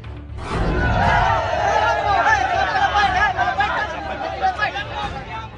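An angry crowd of migrant workers blocking a road beside a burning fire, with police holding them back: loud, dense shouting and babble of many voices, sustained and close throughout.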